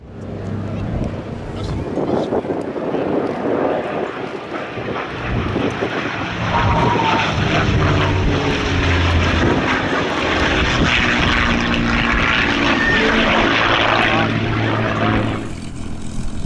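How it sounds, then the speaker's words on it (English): A World War II P-51 Mustang propeller plane at an air show drones loudly and continuously nearby, its engine roar broad and steady with wind buffeting, lasting the whole stretch before fading slightly at the end. "World War II P-51 Mustang."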